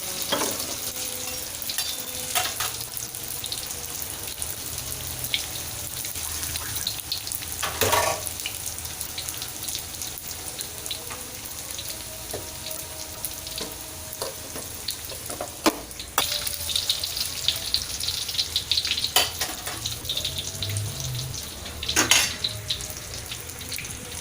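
Ingredients for Indonesian opor ayam fry in hot oil with a steady crackling sizzle and a few sharp clinks from a spatula or utensil against the pan, close and continuous, with no talking.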